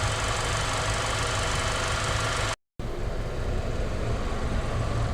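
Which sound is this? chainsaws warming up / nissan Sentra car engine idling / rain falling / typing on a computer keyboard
nissan Sentra car engine idling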